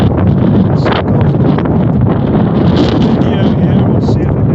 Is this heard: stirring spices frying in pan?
no